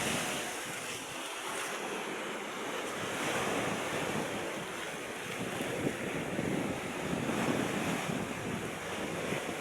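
Ocean waves wash and break continuously against a backdrop of strong wind buffeting the microphone, with no talking.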